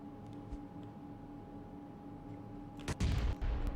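Grenade explosions in a PUBG Mobile esports match: steady low battle rumble for nearly three seconds, then a sudden loud burst of blasts crashing in near the end and rumbling on.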